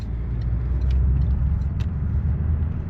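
A Peugeot RCZ THP car pulls away with a low, steady engine rumble and road noise, heard from inside at moderate loudness, with no talking.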